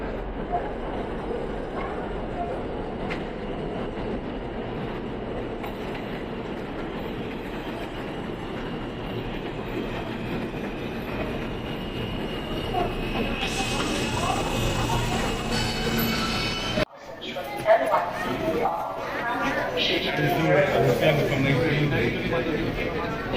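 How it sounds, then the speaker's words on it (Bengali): An underground metro train rumbles into a deep station and rises in a loud, echoing roar with a high screech, over a noisy crowd of waiting passengers talking nearby. "এই ট্রেনে আমি যাব ট্রেন আসছে"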